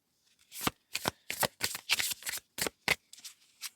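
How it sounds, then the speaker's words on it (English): A deck of playing cards is shuffled in a series of crisp, close riffling bursts, roughly a dozen quick flutters in an irregular rhythm with no talking. "Just one more shuffle."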